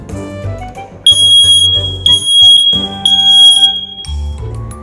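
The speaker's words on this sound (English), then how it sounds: "do you know what a smoke alarm sounds like?" A smoke alarm demonstrated by a fire department blares with loud, piercing electronic beeps in a repeating on-off pattern, close and dominant, with no talking.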